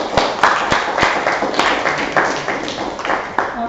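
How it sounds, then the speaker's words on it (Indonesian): Classroom applause for a student group presentation, several sharp individual claps standing out over a thinner patter of clapping, fairly close and uneven. "Kita berikan tepuk tangan."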